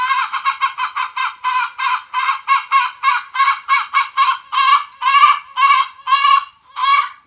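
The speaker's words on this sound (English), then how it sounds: "That's the chicken who comes in every morning and eats breakfast with him." A chicken that shares breakfast with a horse clucks and squawks in a long rapid series of loud, close calls, steady and rhythmic, with no talk over it.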